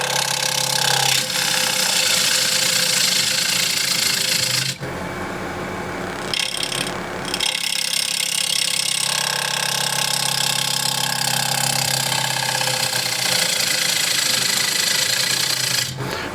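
A wooden tray with side-grain handles spins on a lathe while a tool shapes it, making a continuous loud rasping hum that drops away for a couple of seconds before resuming steadily.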